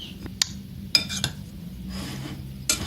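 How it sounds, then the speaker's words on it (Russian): Spoon clinking and scraping against a bowl while a lavash filling is mixed, a few sharp clinks scattered among quieter stirring scrapes, close and with no voices. "Перемешаем все тщательно."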